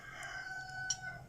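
A faint, drawn-out crow from a distant rooster, steady and tonal, over quiet background hiss, at a calamansi planting.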